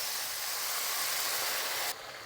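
Water poured into a hot pan of buckwheat gives a steady, loud broadband hiss that holds evenly and then drops to a quieter sizzle near the end.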